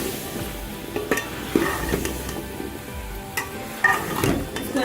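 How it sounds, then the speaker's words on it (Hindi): Potatoes tipped into a pan of eggplant sabzi and stirred, with scraping spoon strokes and occasional clinks over a soft, steady sizzle, close by. "अब इसमें आलू शामिल कर देते हैं।"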